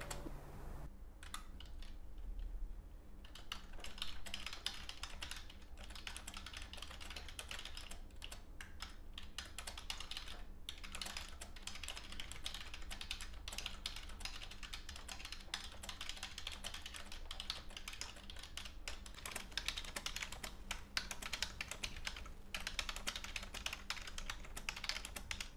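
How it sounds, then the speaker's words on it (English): Continuous, rapid typing on a plastic Logitech K480 keyboard, close up, with light clattery keystrokes and occasional pauses over a faint background hum. "let me give you some sound tests so you can hear how the typing is and how loud"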